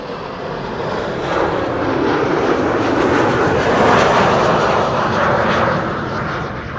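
A fixed-wing airliner arrives at Amsterdam Schiphol Airport on a sunny day, its engine roar swelling loud to a peak mid-pass and then easing off as it goes by.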